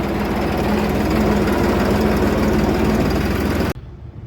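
A tractor's steady, loud engine drones evenly at idle while queued with a trolley at a sugar mill, then cuts off abruptly near the end, leaving quiet background.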